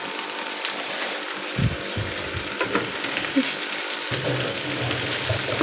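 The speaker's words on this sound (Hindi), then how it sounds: "अब ये ज़रा फ्राई श्राई हो ले अच्छे तरीके से" Onions, tomatoes and chillies fry in a home kitchen pan with a steady broadband sizzle, a few clattering stirs and low thumps breaking through, close and continuous with no talking.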